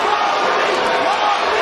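A partisan boxing arena crowd roars in celebration after a fight stoppage, a dense sustained wall of cheering with a commentator talking over it.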